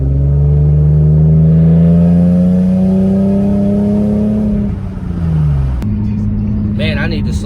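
An Infiniti G37S with an ARK Grip exhaust and an exhaust leak revs loudly in a long, steady drone that eases off near the end, with a voice talking over it.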